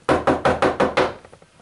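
Six sharp, evenly spaced knocks on a door ring out loud and close, followed by a few fainter trailing taps.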